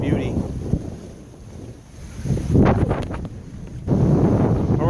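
Cavalier 39 sailboat cruising on a windy day in a 3-4 foot swell off the Channel Islands, with steady wind buffeting the microphone, rushing water along the hull and surges of wave wash, some low talk underneath.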